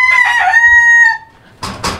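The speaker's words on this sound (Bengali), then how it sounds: "ভাইয়ের এখানে মোরগ আছে, খুব সুন্দরভাবে ডাকে" A rooster crows once, close and loud, a drawn-out harmonic call lasting about a second, followed by a pause and two short clucking sounds.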